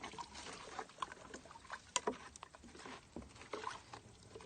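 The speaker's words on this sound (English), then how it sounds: "Stir it up." Blackberry wine mixture stirred in a small batch, heard as soft, faint liquid patter and sloshing with irregular clinks and splashes from the spoon.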